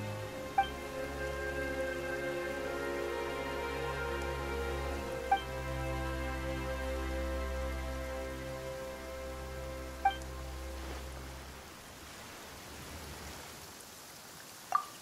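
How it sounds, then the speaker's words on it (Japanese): Steady rain falls in the video game Genshin Impact, a soft continuous patter under a low droning background, with a few faint chime-like clicks and the drone fading near the end. "なんで急に雨が？"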